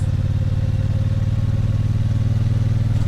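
A Triumph Bonneville T120 engine pulls steadily uphill in third gear on a winding road, a loud, close, constant low rumble with an even pulsing throb and no voices.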